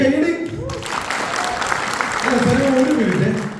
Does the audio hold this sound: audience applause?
yes